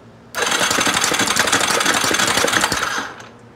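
A Yamaha Raptor 350 ATV engine cranks over on its electric start button, a loud, close, rapid chugging burst lasting about three seconds before cutting off, with no talking.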